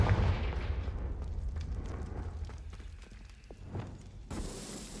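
Confringo fire spell in Hogwarts Legacy blasting braziers: a heavy booming burst opens, followed by crackling, popping flame and scattered impacts that fade, then a sharper noisy burst near the end.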